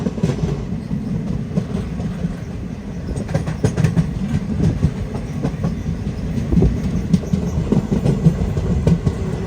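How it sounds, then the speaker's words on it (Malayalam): The Ernad Express rumbles along the tracks approaching Valapattanam station, with rhythmic clickety-clack of wheels over rail joints, close and continuous throughout. "വളപട്ടണം റെയിൽവേ സ്റ്റേഷനിലേക്ക് നമ്മുടെ ട്രെയിൻ എത്തിക്കൊണ്ടിരിക്കുക."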